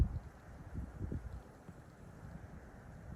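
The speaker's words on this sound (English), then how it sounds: "Definitely windy." Cold outdoor wind gusts and rumbles against the microphone, low buffeting that is stronger at the start and then settles into a quieter steady blow, with no talk.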